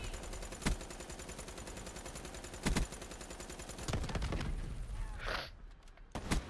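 Video game sniper rifle fire: several loud, sharp cracks a few seconds apart, each standing out against a dense, constant game soundscape, with a short breathy gasp near the end.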